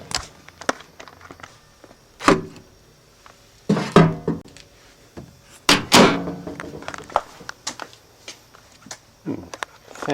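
A Panasonic inverter microwave door opening with loud clunks and thunks, several sharp knocks spread unevenly across the stretch, close by with some rattling in between.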